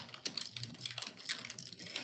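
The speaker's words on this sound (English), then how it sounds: "And I'm just typing in the chat." Someone types on a computer keyboard, a quick irregular run of light clicking keystrokes, close and fairly quiet, with no voices over it.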